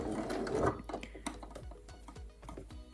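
A sewing machine back-stitches along a summer dress seam, producing a quick run of close mechanical clicks and ticks, then scattered clattering taps as the stitching slows and reverses.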